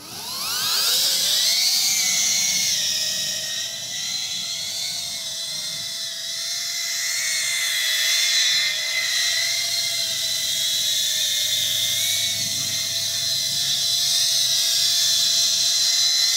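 A FullSpeedRC TinyPusher Nano cinewhoop drone on a 3S 450 battery flies with a loud, steady high-pitched motor whine. The pitch rises and dips as the throttle shifts, and no voices are heard.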